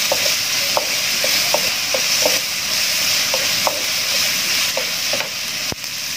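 Lemongrass, galangal, tomato and green chili stir-fry in a pan under a loud, continuous sizzle, with a spatula clicking and scraping at an irregular pace close by and no voices.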